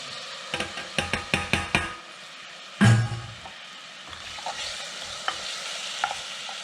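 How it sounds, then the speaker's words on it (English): Tomatoes sautéing in a pan, a quick burst of spoon taps and stirring, then a loud clatter, followed by a faint steady sizzle with occasional light scrapes, close and without voices. "I'm going to saute them for about 5 minutes."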